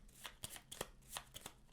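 Cards from the Canopy board game are shuffled by hand, a few quick riffling bursts in close succession, close and quiet with no voices.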